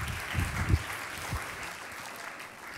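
Audience applause at a regional science-communication contest final in Trieste, greeting a speaker as she takes the stage; the clapping is fairly soft and distant, with a few louder bursts early on before settling into a steady, thin patter.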